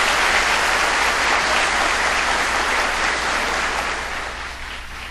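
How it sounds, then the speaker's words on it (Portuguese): A crowd applauding steadily for several seconds during a Catholic Mass, dense clapping that fades slightly toward the end. "Uma salva de palmas para a nossa lei."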